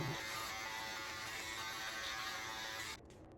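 Manscaped Beard Hedger electric beard trimmer buzzing steadily and close for about three seconds, then cutting off abruptly.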